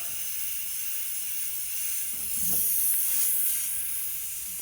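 A spray gun hisses while powder coat is sprayed onto a plastic part, a steady airy spray that swells briefly in the middle and then settles back.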